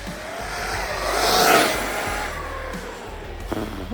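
An RC car running on a 4S battery races flat out past on a street, its high-pitched electric whine rising and falling as it passes, set against broadband road and wind noise, with no talk.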